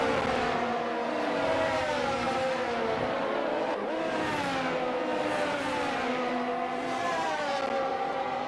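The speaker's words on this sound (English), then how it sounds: "Fox bumping into the back of the McLaren" Race cars in a racing video game at the Qatar circuit produce a continuous, loud layered engine whine with shifting revs and overlapping cars, sustained throughout without talk.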